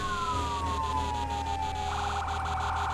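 A fire truck's electronic siren in a firefighting simulator game wails, sweeping down in pitch and then switching to a rapid warbling yelp over a steady engine hum.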